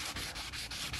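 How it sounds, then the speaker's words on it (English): A sheet of sandpaper rubs by hand over a Porsche 911 body panel in quick, even back-and-forth strokes, a close, raspy scratching repeated about five times in a second with no talk. "take the piece of sanding paper that I've removed from there, and that becomes my new sanding block"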